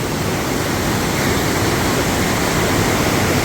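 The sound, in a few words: river water flowing in Kedarnath valley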